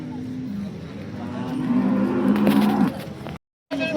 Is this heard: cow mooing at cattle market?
yes